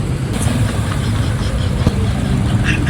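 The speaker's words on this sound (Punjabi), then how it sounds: "ਮੋਟਰਸਾਈਕਲ ਮੇਰੀ ਬੰਦ ਨਹੀਂ ਹੋਈ" A motorcycle engine keeps running during heavy rain in Lahore, giving a steady close rumble under a continuous wash of rainfall noise, loud and unbroken.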